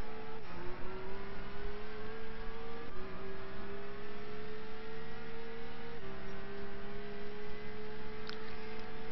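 A race car engine in a racing video game howls steadily during a hot lap of the Nürburgring GP circuit, with the pitch climbing and then dropping at several gear shifts.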